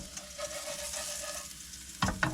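A mushroom frying in a well-used pan sends up a soft, steady sizzle, with two sharp scraping clatters near the end.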